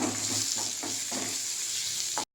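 Onion, green chilli and curry leaves fry in oil with fenugreek in a pan for okra tamarind curry, giving a loud, steady close sizzle with a few soft stirring scrapes, then sudden silence.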